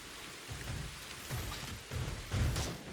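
Steady rain in the video game SYNDUALITY Echo of Ada patters across a surface with soft low rumbles swelling now and then, a continuous wet hiss with no voices.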